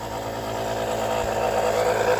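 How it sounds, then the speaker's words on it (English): A steady mechanical drone of a running compressor, loud and continuous with a constant low hum and no talking. "Sorry for the compressor noise,"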